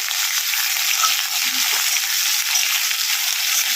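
Potato and eggplant pieces fry in hot oil in a pan, with black cumin seeds tempered in the oil. The sizzle is a steady, dense hiss throughout, with occasional faint stirring knocks and no talk.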